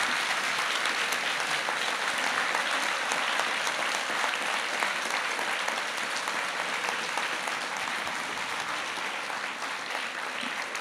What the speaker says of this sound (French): que vous disiez un grand merci en applaudissant très fort Étienne Klein